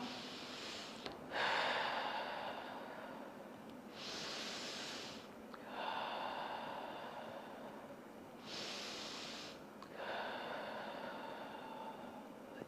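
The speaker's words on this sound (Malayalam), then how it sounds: "ഇങ്ങനെ ശ്വാസം പതുക്കെ അതായത് ലെങ്ത്തിൽ നിങ്ങൾ ശ്വാസം വായിലൂടെ പുറത്തേക്ക് വിടാനായിട്ട് നോക്കുക" Slow, deep breathing exercise with long exhales through the mouth: three quiet, evenly paced breath cycles, heard alone without speech.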